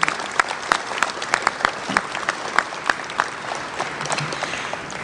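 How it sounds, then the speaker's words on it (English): Audience applauding event sponsors at an annual meeting evening program, loud sustained clapping with distinct sharp individual claps standing out from a dense crowd wash. "Let's give all our sponsors of this evening's event a nice round of applause."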